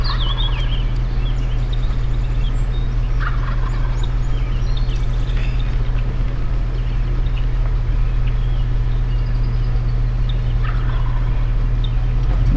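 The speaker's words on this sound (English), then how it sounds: "Oh, it's just one gobbler, isn't it? No, there's 2." Wild turkey gobblers gobble in spring woods, two birds calling at a distance with a couple of brief rattling bursts over a steady low hum and faint ambient noise.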